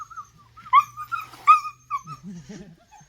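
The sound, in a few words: dog whimpering during rabies vaccination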